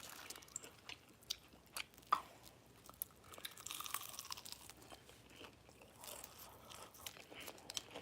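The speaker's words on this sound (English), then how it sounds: "And then let's do a chicken wing." Bites and chewing on a crunchy Chinese takeout chicken wing, close and quiet, with sharp crackling crunches spaced irregularly between softer chewing.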